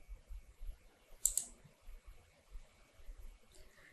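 A computer mouse clicks in a quiet room, one or two faint, sharp clicks near the middle over a low, soft background rumble.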